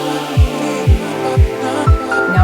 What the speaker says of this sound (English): that is my dog snoring in the background.